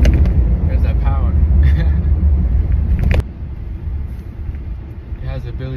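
A 2025 Ram 2500 Bighorn Night Edition's Cummins High Output diesel revs with a loud, deep rumble that drops off abruptly partway through, while someone talks over it.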